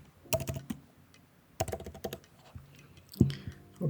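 Typing an email address and password on a computer keyboard while setting up a WordPress site: close, crisp key clicks in short bursts separated by pauses, with no voices.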